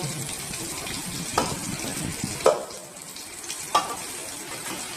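Mustard paste made from white and red mustard seeds with black cumin goes into a frying pan, giving a soft frying hiss with a few louder splattering bursts.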